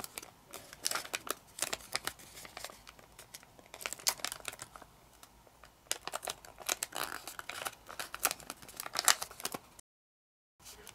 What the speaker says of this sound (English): So fold this edge to the crease.